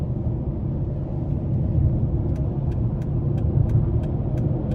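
2009 Dodge Challenger SRT-8 with a 6.1-liter V8 cruising on the interstate, heard as a steady low engine and road rumble from inside the car, with faint periodic ticking clicks.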